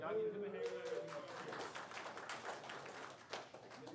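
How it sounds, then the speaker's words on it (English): A small group claps at a county board of commissioners meeting. The scattered hand claps are fairly faint and arrive as a loose patter that thins out. A voice is heard briefly at the start. "Y'all give him a hand clap"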